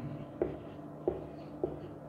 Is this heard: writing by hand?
yes